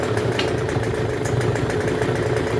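A Troy-Bilt TB272V leaf blower, a free unit being repaired for a running fault, runs steadily at a rough idle on half choke with the throttle untouched. The small two-stroke engine hums loud and close with a slightly uneven buzz and no talking.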